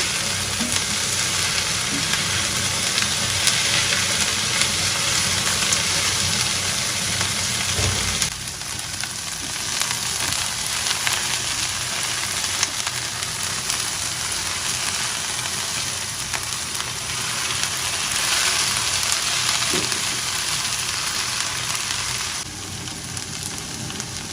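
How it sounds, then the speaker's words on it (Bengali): Bhindi (okra) bhaji frying in a pan, a continuous loud sizzle and crackle that shifts slightly in intensity, with occasional stirring scrapes. "ভাবলাম যে ভিন্ডি ভাজি করি"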